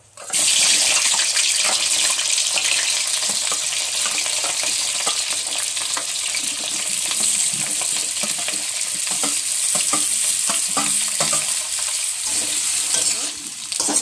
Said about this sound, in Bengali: তেলটি গরম হয়েছে, এখন আমি আলু কপি ভেজে নেব।